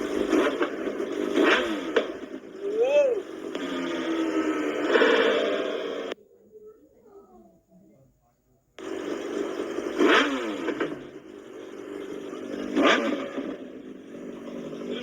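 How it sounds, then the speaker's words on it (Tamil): A Hayabusa motorcycle engine revs repeatedly through its exhaust, loud and close, with a brief quiet gap midway before the revving resumes. "ஆனா பயங்கரமா பிளாஸ்ட் ஆகுதுங்க பைக்ல இருந்து."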